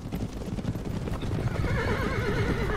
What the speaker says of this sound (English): Become a averagely sized horse.